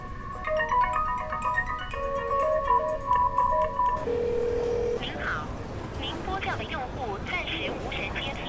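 A mobile phone call rings out unanswered: repeated electronic ringback tones for several seconds end in a single flat beep, followed by voices talking.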